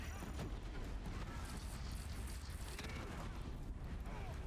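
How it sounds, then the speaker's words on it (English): Machine explosion in the video game Horizon Zero Dawn, fairly faint rumbling booms and crackling blasts over a dense, continuous wash of battle noise. "I hate these machines because this sound explosion they make, it slows you down completely."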